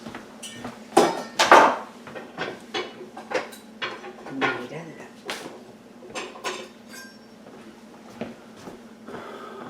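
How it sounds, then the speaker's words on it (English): Rummaging for a different knife in a kitchen: scattered clinks and clatters of metal utensils, dishes and drawers, loudest early on, then lighter knocks and taps continuing at close range without talk. "Actually, I'm going to get a different knife."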